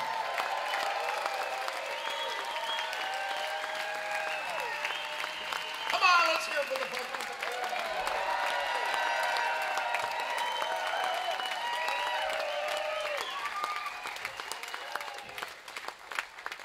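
A rock concert crowd applauds a band aboard the Rock Legends Cruise, sustained dense clapping and cheering from a large audience, with a brief shout and a spoken voice over it.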